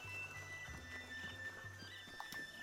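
A horse in the video game The Legend of Zelda: Breath of the Wild moves with soft, faint clip-clop hoofbeats and a brief whinny, quiet and unaccompanied by talk.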